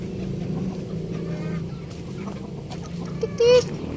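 Backyard chickens cluck softly nearby over a low murmur, ending in one louder sharp squawk near the end.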